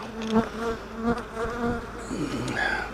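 Honeybees buzz around open hives during a June inspection, a steady droning hum with shifting pitches as individual bees fly close past and away, alone without talk.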